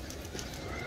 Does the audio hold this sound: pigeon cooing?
yes